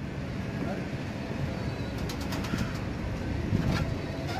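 Pigeons cooing in a loft setting, soft low repeated coos under a steady background hum, with faint chirps and occasional distant voices.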